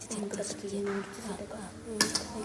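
Dishes clink and clatter softly in the background while someone talks, with a sharper clank near the end.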